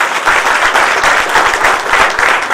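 A crowd at a Marathi felicitation event for students who passed the UPSC and MPSC exams applauds loudly, many hands clapping in a thick, steady roar with slight swells, close and continuous.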